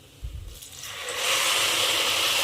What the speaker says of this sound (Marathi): आता आपण त्यामध्ये पाणी घालून घेणार आहोत।